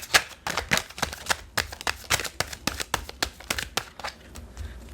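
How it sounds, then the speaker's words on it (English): A deck of tarot cards is shuffled by hand in quick riffles and snaps, about a dozen crisp, papery bursts in close succession, close up with little else around. "One last shuffle."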